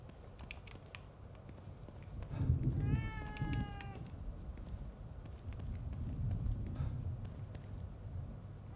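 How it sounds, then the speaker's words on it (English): A cat meows in The Evil Within 2 game, one clear drawn-out meow over low game ambience and soft clicking, with a later rumble of background noise. "Cat."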